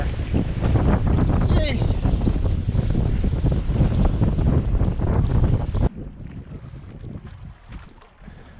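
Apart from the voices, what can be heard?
strong wind while sailing a boat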